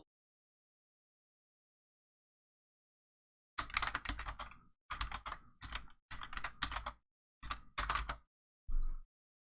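A computer keyboard is typed on during a livestreamed Ender 5 3D printer Q&A: silence at first, then several loud, close bursts of rapid keystrokes separated by short pauses, ending on a single heavier clack.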